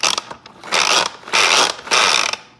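A food processor's spinning mechanism, built like a salad spinner, whirs in three loud bursts of about half a second each, with clicking and ratcheting between them and no talk.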